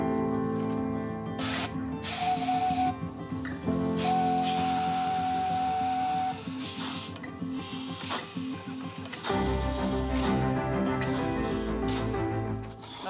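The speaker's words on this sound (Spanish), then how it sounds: "Ruge como un monstruo y escupe vapor." A steam locomotive boiler releases repeated bursts of hissing steam, loud and close, layered over a continuous tonal musical background.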